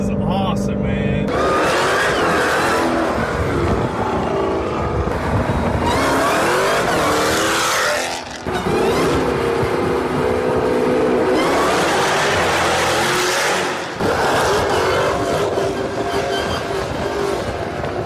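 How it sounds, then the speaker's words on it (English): A 1000-horsepower Jeep Grand Cherokee Trackhawk on drag radials is driven hard, with repeated surges of loud engine roar, revving and tire squeal separated by brief lulls. Voices talk over the noise. "we just got back from doing a bunch of ripping with this TRACKHAWK right here"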